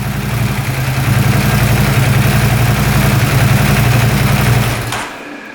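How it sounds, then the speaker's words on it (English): A repossessed UTV engine idles close by with a loud, steady, low mechanical chug and rattling texture, running evenly for about five seconds before cutting off abruptly. "right now it's idling, no smoke at all"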